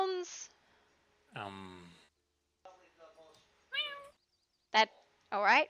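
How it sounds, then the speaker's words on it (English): A cat meows several times in short, separate calls with quiet gaps between them, close and fairly clear, some of the cries rising and bending in pitch. "Cat sounds."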